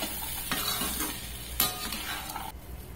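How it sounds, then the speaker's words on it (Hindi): Boiled black chickpeas frying with spices and black salt in a pan, a close sizzle broken by several sharp spoon stirs and scrapes, ending in a quieter stretch. "फिर से हमें इसे अच्छे से फ्राई कर लेना है।"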